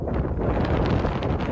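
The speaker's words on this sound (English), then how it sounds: "That wind?" Strong, gusty wind buffets the microphone on a clifftop on Madeira, a steady roaring rush with low rumble and no voices over it.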